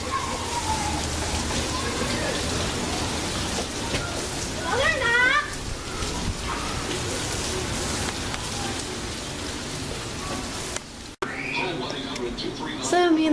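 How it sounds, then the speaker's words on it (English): Heavy rain pours down off a roof on a rainy day, a dense, unbroken hiss of falling water close by. Brief chirps and other small sounds rise above the rain now and then. "I don't know if you can see how hard the rain is falling."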